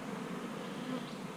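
Honey bees drone at a beehive in a steady, dense buzzing that fills the brief moment evenly, close and without any talk.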